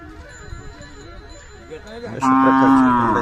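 A Khillar bull lets out a loud, drawn-out moo close by, rising over a murmur of background crowd noise at a cattle market during the Jat fair.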